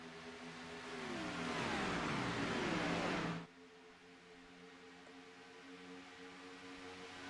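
A train of race cars roars down the back stretch toward turn three in a stock car race at the Texas 250, engines rising to a loud pass then cutting off abruptly to a quieter hum.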